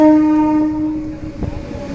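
A loud train horn blares a sustained tone for about a second, then fades into the rumble of a passing train departing Vemuru.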